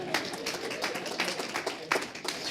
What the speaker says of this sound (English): Yes, I think that's worth a round of applause as well